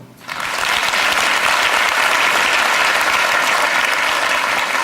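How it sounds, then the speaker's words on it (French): A sudden burst of loud, steady applause from a large audience at a parenting talk, dense clapping starting abruptly and holding strong to the end with no speech. "applaudissez celles et ceux parmi vous qui ont des enfants"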